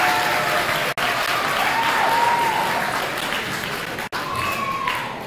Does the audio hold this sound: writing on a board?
no